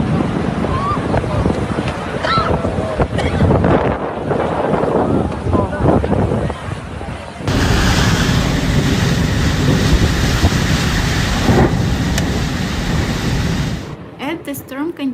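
Storm wind roaring during a Dubai flash flood, a loud, dense wash of noise that thickens and grows harsher midway, running nearly the whole time before cutting off abruptly near the end.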